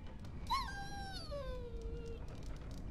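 The Mabari war dog in Dragon Age Origins lets out one drawn-out whimper, a thin whine that slides downward and trails off over low background ambience.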